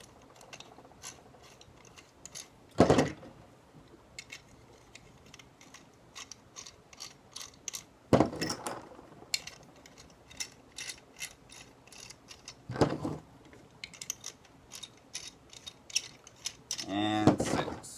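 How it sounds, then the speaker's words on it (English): Perches being screwed onto the hub assembly of an Eliminator, giving quiet ratcheting and clicking turns with a few louder thumps and rattles of parts being handled, close up and with no talk. "So at this point I just got to screw on the perches."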